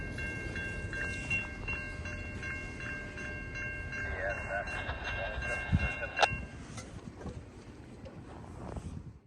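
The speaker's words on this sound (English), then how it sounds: "along came CN's high priority train, and that is CN Z111, that goes from Brampton to Vancouver" CN Z111, a high-priority freight train hauled by EMD locomotives, passes at Quaker on a freezing day, a steady rumble with tonal horn or wheel squeal lines and clanks, a sharp bang around midway, wind noise throughout.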